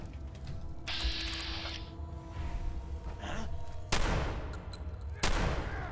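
Gunfire in Fallout 4's Far Harbor, several loud, booming shots with long ringing tails, spaced a second or more apart over background game sound.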